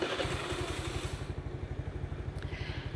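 A small Suzuki scooter engine starts and idles close by with a steady, fast putter, its low chugging pulses holding an even rhythm throughout.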